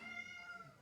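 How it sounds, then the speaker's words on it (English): A cat lets out a single drawn-out meow, clear and close, over a quiet background during a football video game session. "Kessie, as the cat says hello."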